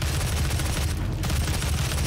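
Rapid, dense gunfire from a gun in Doom (2016), a continuous loud burst of overlapping shots with a heavy low rumble and no talking.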